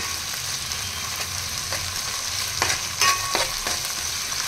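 Ginger garlic paste fries in a pan for kaju chicken masala curry, with a constant close sizzle broken by several sharp scrapes and taps of a stirring spoon.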